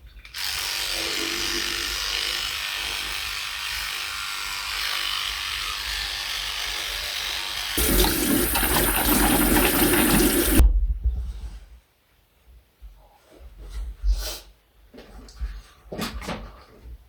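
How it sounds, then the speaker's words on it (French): Electric toothbrush buzzing steadily and close for about eleven seconds during a French-speaker's night routine, rising in pitch midway, then stopping and leaving quiet bathroom clatter and small knocks. "Bon, je vais me laver les dents."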